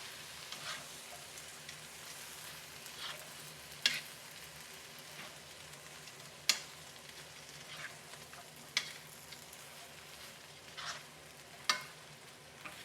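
Kimchi and its juice stirred through black bean prawns in a hot pan, a soft continuous sizzle with a few sharp clinks of a utensil against the pan at irregular intervals.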